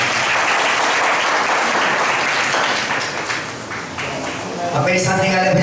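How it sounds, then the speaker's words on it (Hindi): A church congregation applauding during a worship service, dense sustained clapping from many hands that fills the room and then thins out, while voices and musical tones come in toward the end. "ताली बजाएंगे यीशु मसीह के लिए।"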